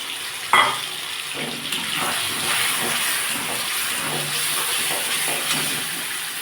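Water from ground sweet bean paste is poured into a hot pan with mashed flat beans, setting off a sudden hiss that settles into a steady bubbling sizzle, close and continuous, with no talking.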